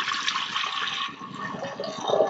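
Water pours into a pressure cooker while papaya and sprouted moong are being cooked, making a continuous splashing gush that shifts in tone as the pot fills.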